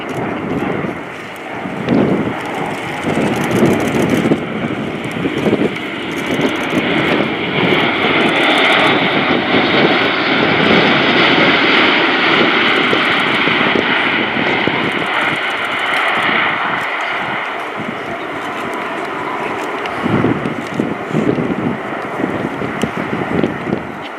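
Airbus A400M Atlas military transport aircraft flying a display at RIAT 2018, its turboprop engines producing a loud, sustained roar that swells and slowly shifts as it passes overhead.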